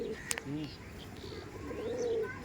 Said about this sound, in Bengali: অনেক দিন পর একটা সুন্দর আন্ধ্রা পায়রা আপনার সঙ্গে দেখাতে চলেছি